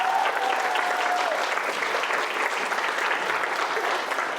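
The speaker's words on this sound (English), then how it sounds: "Can we please just give Rebecca a round of applause for how amazing she looks today" Wedding guests applaud the bride with a full, steady round of clapping from many hands that holds for several seconds, dense and even, while a faint tone fades out early on.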